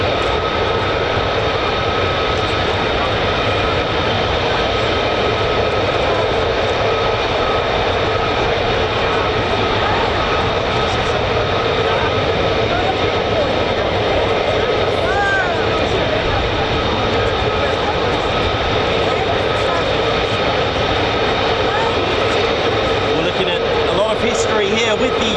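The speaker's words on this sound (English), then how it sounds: "This is the F-15E, which is only available in the family version." A Boeing F-15E fighter jet engine at RAF Lakenheath, heard as a continuous, even, moderately loud engine drone with steady tonal whine layered over it.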